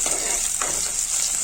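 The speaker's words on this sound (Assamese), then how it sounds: "জলকীয়া দিছোঁ আৰু এইখিনি মই ধুনীয়াকৈ এতিয়া ভাজি ল'ম" Garlic and split green chilies fry in a pan with a steady, bright sizzle. A brief stirring scrape cuts in partway through, and no one speaks.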